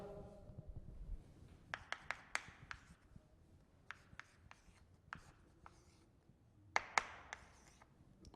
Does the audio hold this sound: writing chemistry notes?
yes